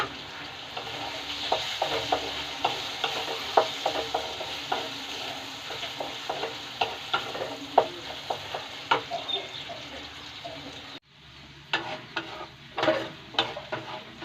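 Potatoes and egg yolk frying in a pan while being stirred, with a steady sizzle and repeated scraping clicks of the utensil; the frying quiets briefly near the end before stirring resumes.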